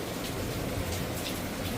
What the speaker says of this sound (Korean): 어, 빗소리 들리시죠?